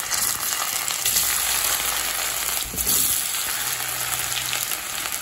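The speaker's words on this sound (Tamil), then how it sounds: "இப்போ வேக வச்ச சேனக்கிழங்கு இதில் சேர்த்துக்கலாங்க." Boiled elephant foot yam pieces fry in hot oil in a kadai, giving a loud, continuous crackling sizzle with a brief stirring scrape partway through.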